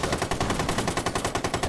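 Rapid automatic gunfire in a video game shooter, a dense burst of sharp, evenly spaced shots repeating about every tenth of a second, loud and close with no talking.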